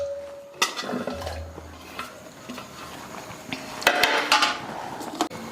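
Cassava pieces are dropped into a pot of water in a kitchen, giving a few scattered metallic clinks and knocks against the pot, close and fairly quiet, with no talking.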